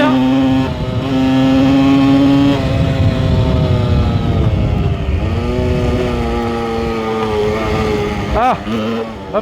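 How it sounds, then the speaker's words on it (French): A big-displacement motorcycle engine runs close by, its rumble rising and falling as the rider revs and accelerates, with a sharp rev burst near the end and some voices mixed in. "comme vous voyez, c'est une moto qui marche très bien"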